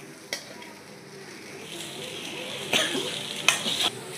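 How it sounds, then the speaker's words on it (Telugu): Veg hakka noodles are tossed fast in a pan over high flame, giving a continuous sizzle broken by several sharp stirring and scraping bursts, with no talk. "మంచిగా హై ఫ్లేమ్ మీద ఇలా టాస్ చేస్తూనే ఉండాలి ఫాస్ట్గా."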